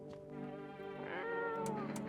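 A cat meows in a video game, a drawn-out tonal cry with a second rising meow, heard fairly close over a steady game background with no talking.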